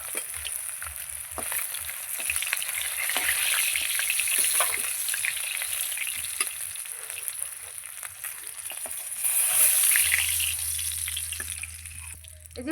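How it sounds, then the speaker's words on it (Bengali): Pieces of katla fish sizzle steadily in hot oil in a home kitchen pan, a bright continuous crackle with occasional stirring scrapes, close and without talk. "পরের মাছগুলো আমি ভেজে নিচ্ছি সব মাছগুলো দিয়ে দেবো যে কটা আছে"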